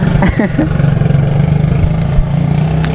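A motorcycle engine hums steadily nearby on a road, a low continuous drone under a brief voice at the start.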